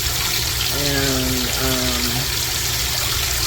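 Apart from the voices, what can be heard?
washing machine filling with cold rinse water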